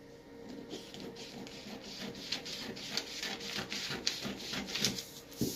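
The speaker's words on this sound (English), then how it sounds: "So now I can cut it out." Scissors cut out a paper pattern for a simple dress, making a close, quiet run of rhythmic snips and papery rustles with no one talking.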